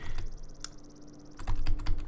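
Computer keyboard typing during a Minecraft-style game session, with a few sharp isolated key clicks first, then a denser burst of close, loud keystrokes toward the end.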